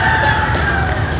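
Backyard chickens raised for eggs cluck steadily at close range while a rooster's crow carries through, a dense, loud burst of fowl calls with no talk.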